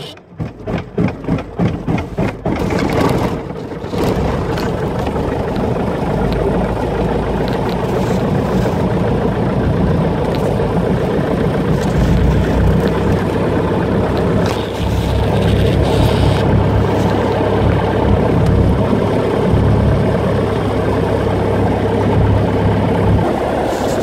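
A Grumman aircraft propeller engine cranks with a rapid stutter of firing pulses, then catches and settles into a loud, steady, throbbing drone that holds close and continuous to the end.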